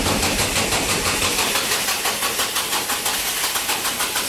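A Nissan S14 being prepped for a drift event cranks with a fast, rhythmic starter churn that keeps pulsing for several seconds, close and loud, with no talk over it.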